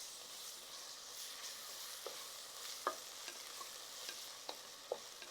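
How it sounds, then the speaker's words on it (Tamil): Ginger-garlic paste sautéing in a pan over lowered heat for tomato biryani: a steady, close sizzle and hiss, with light scraping clicks from stirring scattered throughout and no talk. "இதில் இஞ்சி பூண்டு அந்த பேஸ்ட்டை சேர்த்துருவோம். அதை ஒரு நிமிஷம் நல்லா வதக்கிடலாம்."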